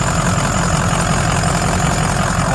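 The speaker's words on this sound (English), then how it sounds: "It is a great running truck." A 2004 Ford F350 4x4 Lariat dually diesel pickup with an EGR delete idles up close, making a loud, steady, unbroken engine rumble with no talking.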